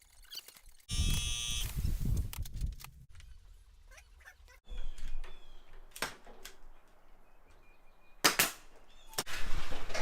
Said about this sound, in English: we can just staple there to hold it stiff